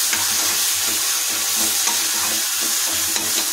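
Ground spices for a snakehead fish curry sauté in a pan with a loud, steady sizzle. Repeated rhythmic scraping from the stirring runs through it, and no one speaks.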